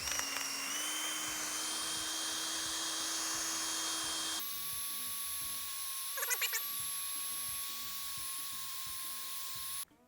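A steady, high-pitched whine from a power drill spinning a rubber eraser wheel against a 1956 Buick's body to remove pinstripe, shifting pitch partway through, with brief scraping chatters before it cuts off.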